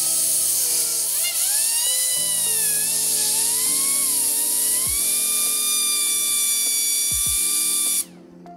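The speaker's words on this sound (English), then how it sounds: "And now let's see how canned air performs in the wind speed test." Compressed canned air blasts steadily from its thin nozzle at close range in a wind speed test, a loud continuous hiss with whining tonal overtones that holds for about eight seconds before cutting off abruptly.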